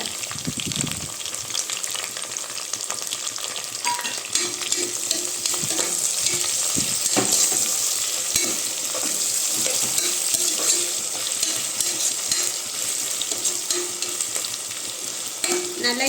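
Onions sauté with curry leaves and ginger garlic paste for a chicken biryani, giving a steady, dense sizzle throughout with occasional stirring scrapes and clinks, close up and without talking.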